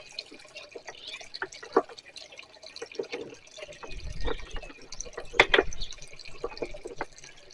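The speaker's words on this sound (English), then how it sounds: "I've got it going over this rock right here, which makes it splash a little bit more" Water from a homemade decorative fountain trickles and splashes irregularly over rock, with small drips and a brief heavier gush midway, close and fairly quiet.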